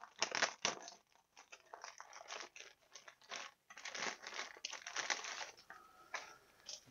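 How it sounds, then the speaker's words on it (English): A single plastic bag holding Heinkel He-162 model kit parts crinkles and crackles close up in irregular bursts, loud and continuous with brief pauses, no talk over it. "It's a single plastic bag with everything in it."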